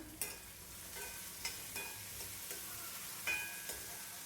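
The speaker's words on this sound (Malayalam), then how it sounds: "നന്നായിട്ടൊന്ന് ഫ്രൈ ആയി കിട്ടണം. അപ്പോഴാണ് കിച്ചടിക്ക് ടേസ്റ്റ് ഉണ്ടാവുക." Beetroot frying and being stirred in a pan for a Kerala kitchadi, a soft steady sizzle with periodic scraping stirs at a close distance, no voices.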